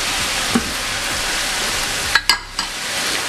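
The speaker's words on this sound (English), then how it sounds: "you keep stirring and let the vegetables fry" Oxtail stew vegetables, scallions, carrots, tomatoes and peppers, sizzle steadily in a pot, with a few sharp scraping clinks from a utensil as they are stirred.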